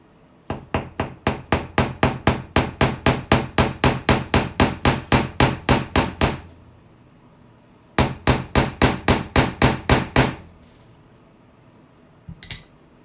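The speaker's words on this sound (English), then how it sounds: "And then we do hammer it." Steel hammer striking jewelry wire on a hard block, two rapid runs of about twenty-five sharp, evenly spaced blows each, separated by a short pause, with a couple of faint taps at the end; no talk.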